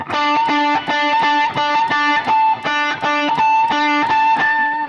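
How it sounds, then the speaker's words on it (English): Distorted electric guitar plays a rapid repeated riff, with squealing pinch harmonics ringing over each note, loud and alone. "you're hitting a harmonic with the edge of your thumb right after the pick strikes the note"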